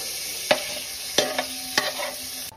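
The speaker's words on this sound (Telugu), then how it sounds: "ఇది కొంచెం గోల్డెన్ బ్రౌన్ వచ్చేంత వరకు వేయించుకోవాలి." Paneer pieces frying in oil until golden brown with kasuri methi, a steady bright sizzle with a few sharp clicks of stirring against the pan.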